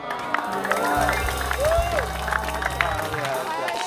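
Indonesian TV comedy studio audience breaking into clapping and scattered cheering, a steady crowd roar with a low hum underneath, while voices carry on over it.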